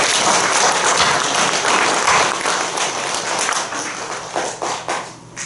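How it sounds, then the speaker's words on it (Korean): A large audience in a church auditorium claps steadily in warm welcome for the ushers and reception staff, the dense applause slowly thinning into a few scattered claps at the end. "환영하는 뜻이고 격려하는 뜻에서 크게 박수로 환영해 주시기를 바랍니다"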